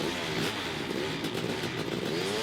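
Kawasaki KX 500 two-stroke dirt bike from 2000, its engine revving loud and close in a steady, continuous snarl with rising and falling pitch and no talking.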